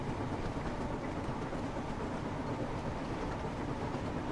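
A Train Sim World Wonders of Sodor train runs with a dense, continuous rumble and rattle, loud and close, with no voices.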